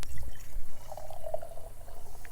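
Steeped fig leaf tea poured from a container into a cup, a steady liquid stream with a soft rising fill tone, close and fairly quiet, with no voices.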